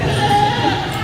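A sheep bleats at a lamb and goat show: one drawn-out, wavering cry close by, mixed with people talking and the murmur of the show hall.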